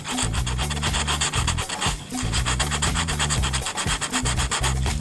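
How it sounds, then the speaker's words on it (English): Old 120-grit sandpaper rubbed by hand across MDF, a steady rhythmic rasping of quick back-and-forth strokes, loud and close with brief pauses and no voices. "I'm going to take some old sandpaper, about 120 grit, and I'm just going to rub through those."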